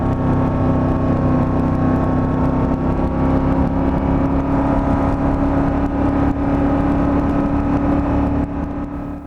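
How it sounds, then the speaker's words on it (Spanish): A Moto Guzzi V85 TT motorcycle engine runs loud and close, a steady dense drone holding for about nine seconds with little sign of rising revs before easing slightly at the end. "me voy a callar un minutito para que escuchéis el sonido del motor"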